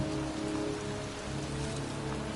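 Pouring rain in a cemetery, a dense steady hiss of heavy downpour striking the ground close by, continuous and even with no voices.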